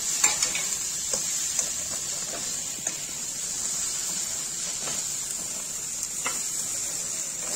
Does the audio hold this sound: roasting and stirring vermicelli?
yes